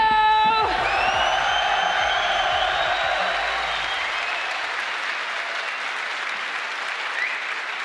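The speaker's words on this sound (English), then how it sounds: "Dua, give it up for your second grand finalist, Gumiho!" Loud applause and cheering from an esports crowd at a DreamHack Open StarCraft 2 semifinal, swelling as a grand finalist is introduced and then holding as a steady, dense wash of clapping and whoops.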